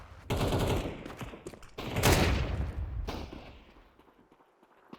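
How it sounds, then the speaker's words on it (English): Bursts of FAMAS rifle fire crackle in a Counter-Strike match on the Dust2 map, with rapid overlapping shots layered over other gunfire and game sounds before trailing off. "Headshot on the Wolfie for RDN, and the FAMAS eking out a kill as well"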